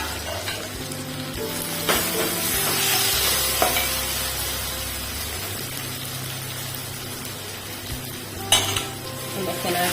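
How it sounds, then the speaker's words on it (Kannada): Okra and green chilies frying in a pan with a steady sizzle, a metal spoon scraping and clinking against the pan in occasional stirs, close up with no talking. "ಚೆನ್ನಾಗಿ ಇಲ್ಲಿ ಫ್ರೈ ಆಗಿದೆ ಎಲ್ಲ ಕೂಡ"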